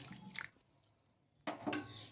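Water poured into idli rava batter with curd, two short wet splashing pours a second apart, quiet and close with faint clinks of the cup.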